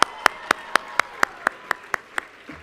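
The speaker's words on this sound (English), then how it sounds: "Another round of applause" A single person claps alone at an awards ceremony, about ten sharp, evenly spaced claps at a steady rhythm, fairly faint and slowing slightly at the end, with no one speaking.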